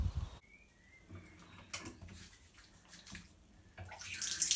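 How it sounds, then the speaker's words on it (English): Hands being washed under a running tap after water activities such as time on a slipway, a soft splashing water flow with brief louder bursts, fairly near and with no talking. "you must make sure to wash your hands"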